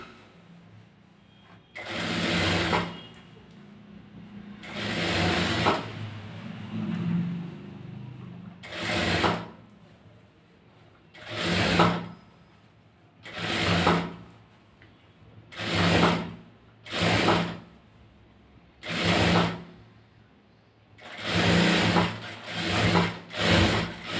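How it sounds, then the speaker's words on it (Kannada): A sewing machine stitches the back neck design of a blouse in about ten loud, close bursts of rapid whirring, separated by short quiet pauses and sometimes coming in quick clusters. "ಇದ್ರ ಮೇಲೊಂದು ಸ್ಟಿಚ್ ಹಾಕೋಬೇಕು."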